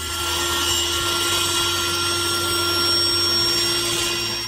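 Saw cutting wood pieces for sturdy folding steps in a workshop, a steady continuous rasping cut with a constant machine hum underneath, loud and close, with no pauses.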